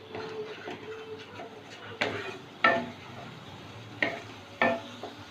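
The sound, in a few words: spice paste with Kashmiri chili powder being stir-fried in pan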